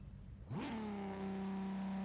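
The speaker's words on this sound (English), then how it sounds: "full brake, rev it up max throttle, and then right after that, you're going to click the clutch and hold it" A 1600 hp Supra drag build in Forza Horizon 5 revs up sharply at launch control, its engine climbing quickly and then holding a loud, steady high-rpm drone.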